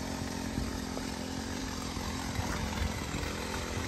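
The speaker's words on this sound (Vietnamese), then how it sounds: "hiện giờ thì mọi người vẫn đang khoan đá bên này nhá các bác" Rock drilling on a mountainside rumbles continuously with a harsh, buzzing engine-driven roar, steady and fairly loud, with no talk over it.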